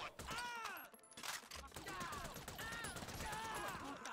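Rapid gunfire in the video game GTA Online during a heist, bursts of shots rattling repeatedly across the scene amid game sounds, with faint voices present.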